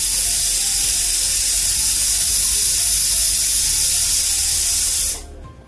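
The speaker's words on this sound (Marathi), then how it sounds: "आता आपण इथे कुकरच्या 4-5 शिट्या करून घेऊया।" A pressure cooker on the stove, cooking rice-flour dough for modak, vents steam in a loud, steady broadband hiss that holds evenly and then cuts off abruptly near the end.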